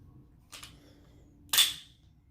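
A Glock pistol's freshly lubricated slide is racked, giving a soft metallic click followed by a sharper, louder snap of the action closing, close up against a quiet room.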